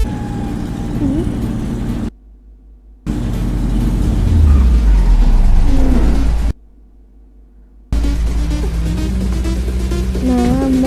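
A car in the GTA 5 video game revs and pulls away, its engine rumble rising and falling through two sudden dropouts of silence, with other game noise mixed in.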